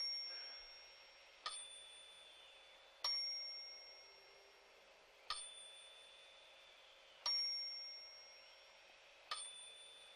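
Bells on a scoreboard in a telekinesis demonstration ring out as five separate bright, sharp dings spaced a couple of seconds apart, each decaying slowly over a quiet background.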